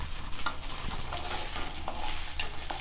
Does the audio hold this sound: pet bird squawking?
no